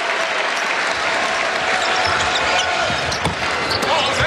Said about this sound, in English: John Mooney gets a well-deserved round of applause here at the Joyce Center.